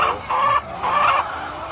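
Chickens on a poultry farm cluck in two short bursts, fairly close and clear, with no talk over them.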